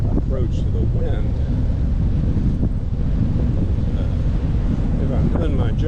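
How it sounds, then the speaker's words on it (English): Strong wind buffets the microphone of a cyclist out on an autumn tour ride, a loud, constant low roar that fills the whole stretch with no break. "it is kind of a struggle to ride in this kind of wind"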